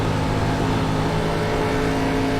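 A race car engine in the iRacing video game roars loud and continuous, with a sustained high-revving tone and a steady level throughout.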